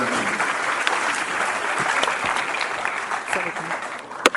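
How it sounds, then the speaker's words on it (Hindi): Loud, dense applause from a university audience welcomes guests and the vice-chancellor at the opening of the academic session, a steady roar of clapping lasting throughout with one sharp clap near the end. "सबसे पहले आदित्य जी का और कुलपति जी का जोरदार तालियों से साथ स्वागत करेंगे"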